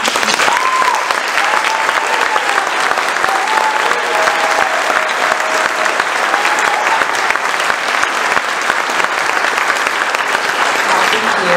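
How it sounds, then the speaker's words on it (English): A concert audience at a holiday symphony performance breaks into loud, sustained applause, many hands clapping steadily and densely at close range, with faint tonal traces and murmurs mixed into the ovation. "Would you please give a round of applause for Isabella Morrill."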